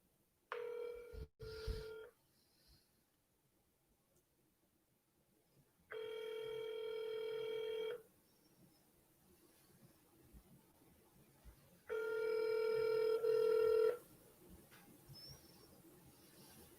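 Ringback tone of an outgoing phone call, three long electronic rings spaced a few seconds apart with quiet line hiss between, no talk.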